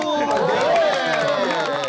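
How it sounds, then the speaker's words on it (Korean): A television studio audience claps and cheers for a young baritone from a regional opera company, a continuous, close crowd applause mixed with voices and talk over it. "박수!"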